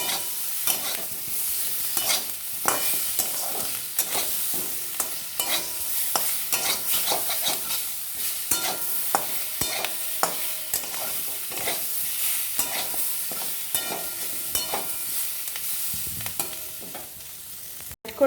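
Boiled chicken leg pieces with a few drops of tomato sauce are stirred in a pan over a low flame, with a continuous soft sizzle and repeated utensil clinks and scrapes throughout.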